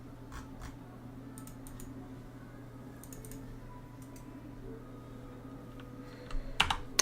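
Light keystrokes on a computer keyboard come in scattered small clusters, quiet and close, over a constant low hum from a City of Heroes game session. A denser flurry of clicks arrives near the end, and no one speaks.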